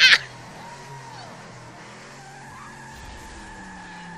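A car driving off in the zombie game Left 4 Dead 2, with a brief sharp tire squeal at the start, then a steady engine drone and faint skidding tones that carry on underneath.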